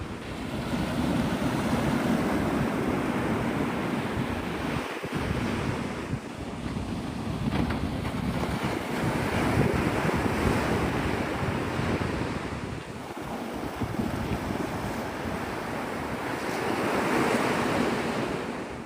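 Ocean surf rolls onto Navarre Beach at sunrise on a windy morning, with waves breaking and washing in continuously, close and steady, under gusts of wind rumbling against the microphone and no voices.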